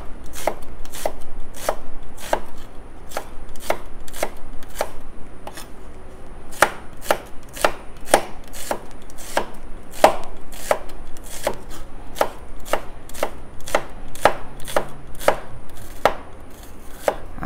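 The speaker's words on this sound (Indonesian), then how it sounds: "Kita potong dia kasar-kasar aje." Onion being coarsely chopped with a knife on a cutting board while preparing a simple beef curry: steady, evenly spaced sharp knife strikes repeating throughout, close and clear, with no talking.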